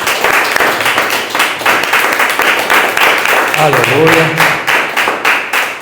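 Church congregation clapping hands together in steady rhythmic beats during a worship service, loud and close, with voices speaking and calling out over the clapping.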